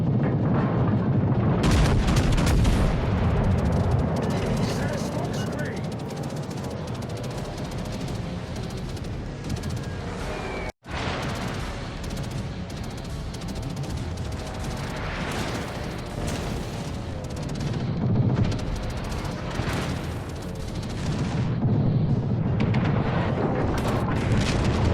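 Battleship guns roar in World of Warships Legends, with heavy booming salvos and rumbling explosions layered over constant loud naval battle noise, one abrupt cut midway and swells of blasts through the rest.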